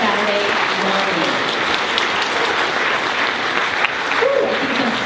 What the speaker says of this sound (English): give yourselves a big round of applause for being here on